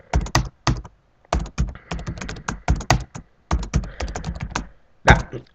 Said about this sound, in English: This will just be a bit noisy for a sec with all the typing.